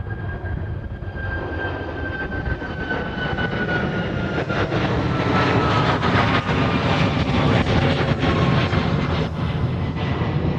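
Southwest Airlines airliner approaching overhead at Honolulu airport, a steady broadband engine roar that swells gradually and holds loud throughout, with a faint whine fading early.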